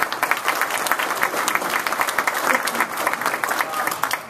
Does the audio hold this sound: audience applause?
yes